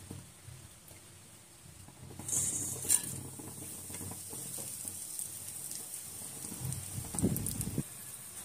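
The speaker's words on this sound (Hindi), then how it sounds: "अब हम इसमें खड़े मसाले डाल देंगे।" Whole spices drop into hot oil left from frying fish for a fish curry, giving a faint sizzle that swells after a quiet start, with soft clinks of a utensil against the pan.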